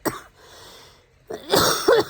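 Two bursts of harsh coughing a second apart, close to the microphone, with a quieter raspy breath between them.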